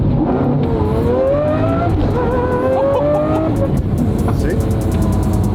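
A BMW with a high-revving engine winds out hard toward 9,000 RPM, the loud engine note climbing steadily through rising pitches close up from inside the car, with a brief shift dip partway and continuous road noise underneath.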